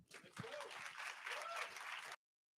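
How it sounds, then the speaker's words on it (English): Audience applause at an AI, Web3 and real estate summit, a steady wash of clapping from a mid-sized room lasting about two seconds before cutting off, with faint voices and a chuckle mixed in. "How about a round of applause for them?"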